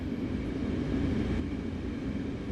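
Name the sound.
Metrolink MP36PH-3C locomotive train running, from video game Train Sim World 5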